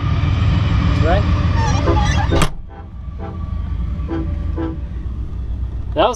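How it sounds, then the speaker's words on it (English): Train passing nearby on a rainy night sounding its horn in short repeated toots over a heavy rumble, loud and close at first then fading, with people talking over it. "There goes the train."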